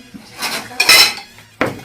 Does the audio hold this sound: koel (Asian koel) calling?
no